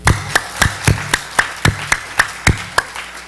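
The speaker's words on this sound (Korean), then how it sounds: "다시 한번 박수" A congregation in a church clapping in unison, a steady, evenly spaced beat of loud, sharp hand claps repeating about three times per second.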